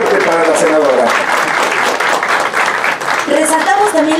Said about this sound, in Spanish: Un aplauso fuerte para la senadora.